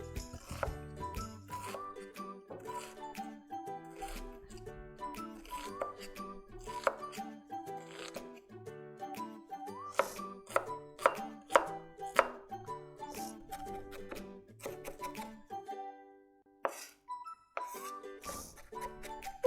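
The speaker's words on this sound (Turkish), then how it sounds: "yanlardan tutarak şöyle mümkün olduğunca ince kıyıyoruz" A knife finely chops onions on a board, giving quick, close, rhythmic taps in bursts with short pauses, loud and clear with no talking.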